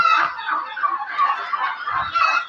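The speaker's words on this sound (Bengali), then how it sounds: "এখানে আছে আমার অরিজিনালি দেশি মুরুগ" Native desi chickens on a farm cluck and chatter in a continuous close flock, busy overlapping calls with no pauses.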